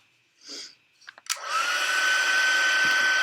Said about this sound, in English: I'm going to grab my heat tool and I'm going to heat this up real quick